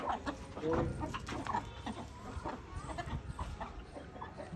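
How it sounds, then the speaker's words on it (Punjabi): Native desi chickens cluck and call in a busy farmyard, several birds overlapping at close range, with faint voices in the background. "ਦੇਸੀ ਕੁੱਕੜ ਰੱਖੇ ਨੇ ਉੱਪਰ ਇਹਨਾਂ ਨੇ"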